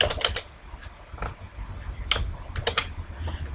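A computer keyboard types text into report labels in Microsoft Access, with irregular bursts of close, crisp key clicks and a few louder taps, with no talk over them.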